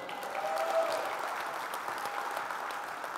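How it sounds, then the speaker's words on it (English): An audience at an evening event breaks into sustained applause, a broad, even roar of many hands clapping, fairly distant and continuous from start to finish. "I want you to go take your seat to the sound of thunderous applause."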